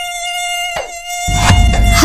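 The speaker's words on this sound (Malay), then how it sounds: "Ada nyamuk Nyamuk ni." A mosquito buzzes close by as a steady, high whine that persists throughout, with a louder burst of broadband noise joining in the second half.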